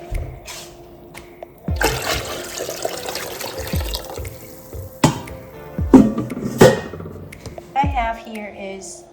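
Pho ga soup base pours and splashes back into a pot in uneven bursts, with clanks of cookware in between.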